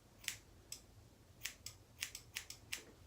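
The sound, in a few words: scissors snipping Havanese dog's hair during grooming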